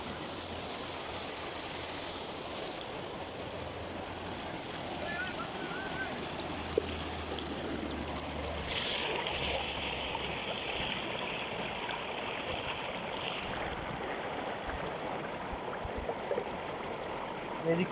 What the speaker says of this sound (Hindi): ये जी कितना खूबसूरत साफ पानी जो पहाड़ों से नीचे आ रहा है।